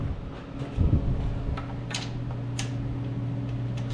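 A ratchet socket wrench loosens the two breather bolts on a 2016 Harley-Davidson Street Bob, giving steady fine ticking clicks at close range over a low, constant hum, with no talking.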